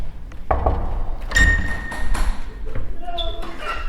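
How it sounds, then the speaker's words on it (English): Knocks on a studio door in a building by Glasgow Green, a few hollow thuds in quick succession, with voices and light bumps around them. "Give a knock, see if she's in."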